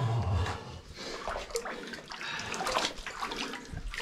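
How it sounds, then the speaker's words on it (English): Water rushes beneath a collapsed floor in an old mine, a steady broadband hiss and gurgle close by, with a few scrapes and knocks over it and no speech. "You can hear the water rushing underneath it."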